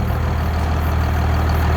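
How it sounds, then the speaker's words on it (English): A tractor engine idling steadily after starting on its own, a loud, close, continuous low rumble with an even drone and no change in pitch. "my tractor just automatically started"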